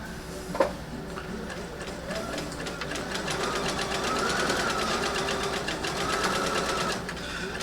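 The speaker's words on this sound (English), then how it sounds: "I'm just going to use the 1/4 inch seam on this edge and sew all the way around the circle." A sewing machine stitches a 1/4 inch seam around the edge of a fabric circle, a fast steady mechanical whir with rhythmic needle clatter, close and continuous with a small knock near the start.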